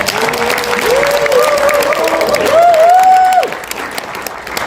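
A rally audience claps in a full, steady round of applause while a voice speaks over it, the clapping easing slightly toward the end.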